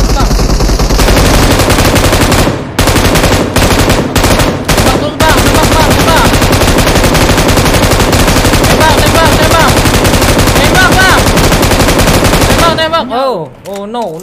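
Loud, sustained automatic gunfire in PUBG Mobile, with rapid bursts running almost nonstop, a few brief gaps between volleys early on, then a sudden stop near the end.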